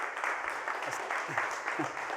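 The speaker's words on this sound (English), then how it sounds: "That's definitely your introduction that kind of invited that applause before I've said anything." Audience applause following a speaker's introduction at a mobile gaming talk: steady clapping from a crowd, fairly even and moderately distant throughout the short stretch.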